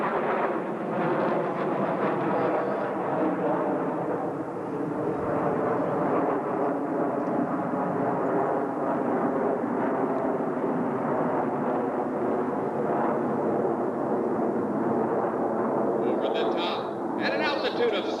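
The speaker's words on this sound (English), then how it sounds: "the power is eased as the aircraft round out the backside of this 5-plane line-abreast loop" Air Force Thunderbirds jets flying a five-plane line-abreast loop at about 7,000 feet with power eased on the backside: a loud, continuous broadband jet roar that holds steady throughout the clip.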